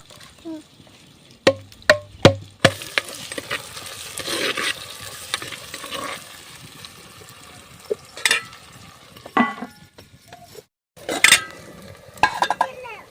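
Potatoes fry and sizzle in a pan, with intermittent clanks and scrapes of stirring against the metal, while people talk nearby.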